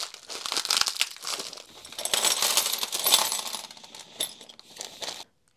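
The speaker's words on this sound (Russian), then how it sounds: "Комплект гаек и винтов." Metal nuts and screws from a wheeled snow shovel kit are handled, jingling and clinking with crinkling packaging, close and busy in uneven bursts before stopping abruptly.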